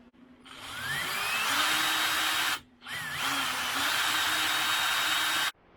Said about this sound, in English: What I'll be using is a 3/32 inch drill bit to drill through the pivot ball.